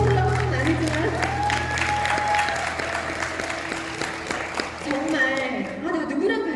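Applause from a seminar audience in Jeju rises briefly, crowd clapping blended with talk and background music, moderately loud and continuing under the speaker's voice.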